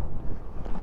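A short burst of strong wind rumbles against the microphone at a high-altitude geyser field around 4,900 metres, a low continuous blustery roar.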